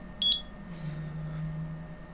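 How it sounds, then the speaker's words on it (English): A Fluke 96B ScopeMeter under repair gives a short, bright electronic beep at power-up, one brief tone over a quiet low electrical hum. "there's a buzzer, it powers up."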